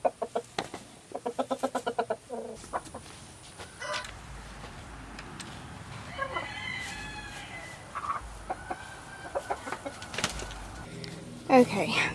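Backyard chicken flock dusting and scratching in dirt ground, with repeated close clucks and calls, a rooster crowing, and scattered scratching sounds throughout.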